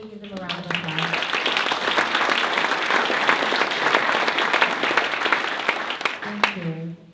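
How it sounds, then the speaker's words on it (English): Staff members from a Region 3 PTAC get a loud, sustained round of applause from a breakfast business audience, dense clapping throughout, with brief voice fragments just before it starts and again as it fades. "Shall we give them a round of applause?"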